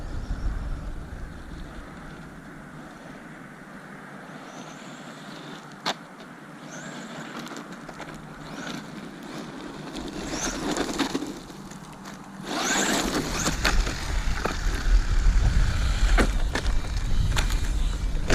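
A 9200e RC car running on a 3S battery bashes around outdoors on freshly repaired wheels, its motor whine and tyre crunch rising and falling, loudest and most continuous toward the end.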